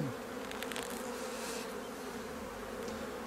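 Honey bees swarm at an open hive during a spring inspection, with a dense, steady buzzing close by that continues alone, without talk.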